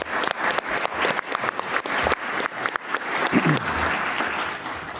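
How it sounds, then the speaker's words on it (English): A conference audience gives panelists at a session on advanced nuclear reactor fuel a final round of applause, dense clapping close by that thins out toward the end as a voice speaks briefly. "please give our panelists one final round of applause"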